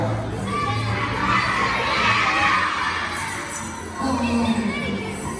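A crowd of children shout together at a live show, a loud, sustained burst of many young voices that swells, dips briefly, then rises again.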